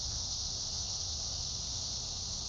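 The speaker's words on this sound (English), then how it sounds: "Can you hear the cicadas?" Steady, dense cicada buzz fills the air at a museum of art in Huntington, a continuous high shimmering drone holding level throughout with no talk over it.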